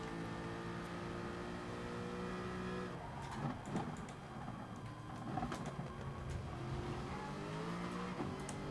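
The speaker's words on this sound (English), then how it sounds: "That Ferrari acceleration is pretty sexy." Ferrari race car in GT Sport accelerating, its engine note climbing through a steady tonal whine with gear-change breaks and a few thumps, heard close and continuous with no talking.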